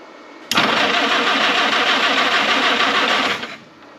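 A historic Ford Willys Jeep engine with a manual choke catches and starts abruptly, then runs in a loud, steady, buzzing roar for about three seconds before cutting off sharply, close by.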